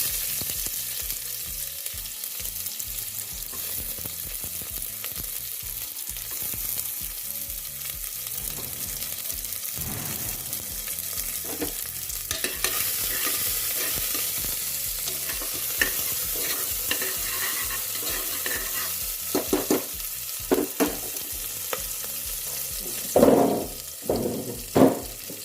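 Onions fry in hot oil for a spiced rice porridge, a continuous crackling sizzle broken by regular stirring scrapes, with sharper utensil knocks against the pan toward the end and no talking.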